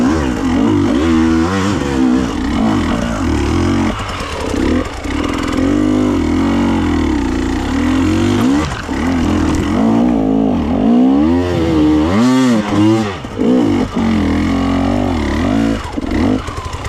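A KTM TPI two-stroke motorcycle engine with a modified idle screw runs loud and close, idling and then revving in repeated sharp, snappy bursts.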